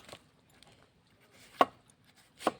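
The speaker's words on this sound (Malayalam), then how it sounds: "കിഴങ്ങ് അങ്ങനെ കൊത്തിയിടുക." A knife chops tuber pieces for a jackfruit curry, giving a few sharp, isolated chopping knocks, one at the start and two louder ones spaced about a second apart, close by in a quiet kitchen.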